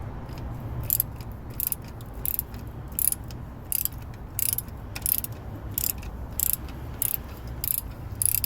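A socket ratchet loosening the alternator bolt on a 1979 Chevy C10 makes rapid clicking bursts, over a dozen quick strokes in an even rhythm, close and clear with a low hum behind.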